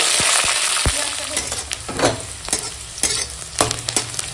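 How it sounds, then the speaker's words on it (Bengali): Chopped onion and bay leaf fry in hot oil, a loud continuous sizzle broken by sharp spatters and scraping stirs of a spatula, with no one speaking. "তেলের ওপর দিয়ে দিলাম তেজপাতা, এখন দিয়ে দেবো কেটে রাখা পেঁয়াজ কুচি"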